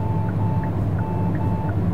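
A blind-spot warning chime in a 2024 Kia Soul S beeps five times at a regular pace over the steady low rumble of the car driving along.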